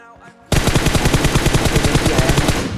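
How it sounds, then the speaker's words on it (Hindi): M16 rifle fired by a bot in a shooting video game, a sudden loud sustained rapid burst of evenly spaced shots after a brief quieter moment, close and dominant. "पीछे से एक बॉट M16 चलाने लगा"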